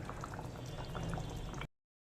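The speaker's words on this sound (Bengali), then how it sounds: "ঝোলটাকে এবার 3-4 মিনিট মতন আবার একটু ফুটিয়ে নেব" Katla fish curry with gathi kochu and potato simmering in its gravy, a close, steady bubbling boil that cuts off abruptly after under two seconds.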